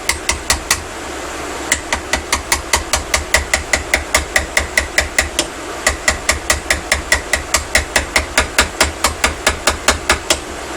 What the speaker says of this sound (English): Sometimes it's nice to have the hammer though. And you'll see that all I'm taking off is that high spot.